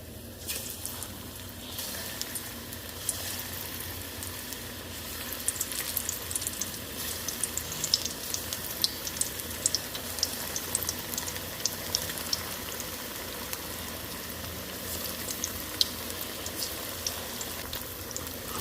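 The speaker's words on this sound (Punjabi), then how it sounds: "ਬੇੜਨ ਤੋਂ ਬਾਅਦ ਆਪਾਂ ਤਲਣਾ ਸ਼ੁਰੂ ਕਰ ਦਈਏ" Paneer pakoras sizzle steadily in hot oil on a gas stove, a close, continuous crackle with small pops and no talking.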